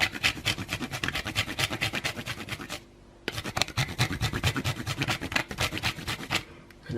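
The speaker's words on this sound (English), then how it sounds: "I'm going to give it a final little flourish by grating a bit of chocolate over the top" Chocolate grated over a low-carb vanilla milkshake makes rapid, even scraping strokes that rasp close and steady, with one brief pause partway through.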